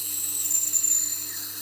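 Knife blade being sharpened on a Tormek 80 grit wheel, a steady continuous grinding hiss with a high whine, heard close and alone.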